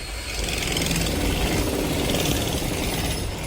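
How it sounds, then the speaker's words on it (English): Loud, continuous mechanical rumbling and rattling fills the whole stretch, a dense pounding din close by with no pauses. "You can hear the jackhammering behind me here."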